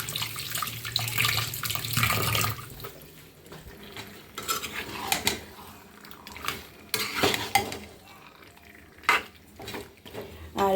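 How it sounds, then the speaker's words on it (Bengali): Kitchen sounds of a garlic bulb being rinsed under a running tap, with water splashing into a sink, clinking dishes and handled utensils in bursts throughout, close and moderately loud. "রসুনটা একটু ধুয়ে দিই"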